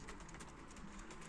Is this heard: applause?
no